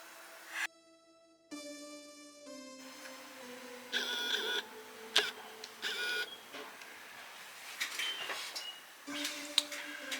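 Beeps and short tonal stepper-motor whines from a 3D printer printing robot dog parts in ABS, with clicks and brief rasping moves, close and fairly quiet, no talking.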